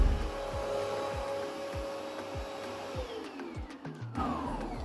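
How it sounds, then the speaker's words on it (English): A household vacuum cleaner runs with a steady droning whine, its motor pitch sliding downward partway through amid rhythmic low thumps, close and continuous with no voices. "We also have 2 vacuum cleaners right now. This one is to wash and this one is to clean, like vacuum clean."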